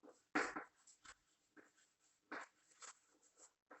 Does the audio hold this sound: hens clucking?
no